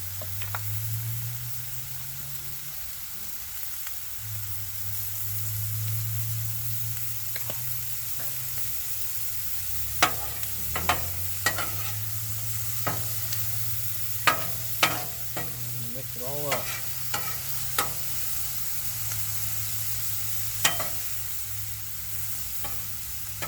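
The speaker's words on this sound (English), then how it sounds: "We're going to add a little more butter to our onions here." Onions fry in butter on a Blackstone griddle, a steady sizzle over a low droning hum, punctuated by repeated sharp spatula clacks and scrapes against the flat-top in the second half.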